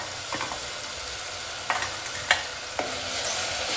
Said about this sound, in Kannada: ಇದನ್ನು ಹಾಕ್ಬಿಟ್ಟು ಚೆನ್ನಾಗಿ ಸ್ವಲ್ಪ ಮಿಕ್ಸ್ ಮಾಡ್ಕೊಳ್ಳಿ, ಹಸಿ ವಾಸನೆ ಹೋಗೋವರೆಗೂ